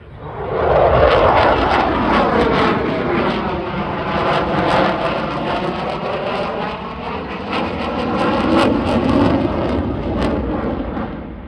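A loud jet aircraft roars overhead, its engine noise swelling and sweeping past with a shifting whine, then rising again toward the end.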